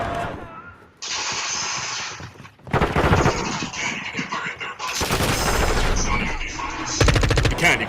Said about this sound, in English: You can hip fire in third person.